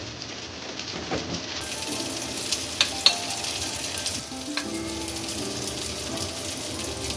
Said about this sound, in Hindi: अब इसके अंदर जो थोड़ा सा पानी है उसे ड्राई कर लें और उसको गोश्त को भून लें।